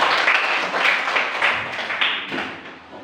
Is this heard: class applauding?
yes